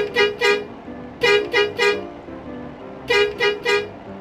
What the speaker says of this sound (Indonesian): Dan untuk klakson satunya ini seperti ini